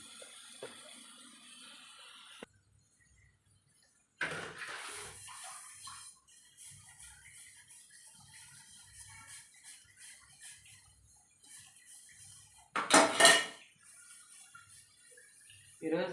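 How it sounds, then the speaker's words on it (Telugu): Pots and dishes are washed in a home kitchen sink, with bursts of running tap water, clinking and scrubbing between quiet pauses, and someone talks intermittently. "ఈలోపు ఈ గిన్నెలు కడిగేసుకుంటానండి"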